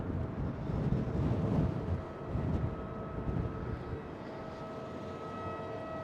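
An airliner arrives at Schiphol airport in gusty wind, a distant low engine rumble and roar under buffeting wind noise that fades to a steadier hum.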